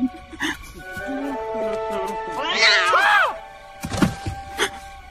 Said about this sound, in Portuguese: Gato idiota!